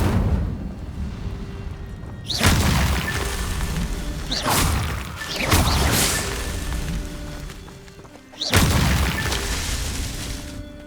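A fire spell from Hogwarts Legacy on PC, cast three or four times, each a loud whooshing burst of flame that erupts sharply and trails off, with a rumbling background between casts.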